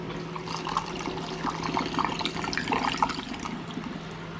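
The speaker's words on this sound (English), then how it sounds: "I'm going to pour it into the first of the demijohns through the filter" Homemade blackcurrant and rhubarb cider poured from a jug through a filter into a glass demijohn, a steady close trickling and splashing of liquid with a low hum underneath.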